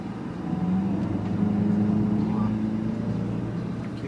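A Volkswagen Golf GTI accelerates on a test drive, its engine tone rising steadily and droning from inside the cabin, with road rumble underneath.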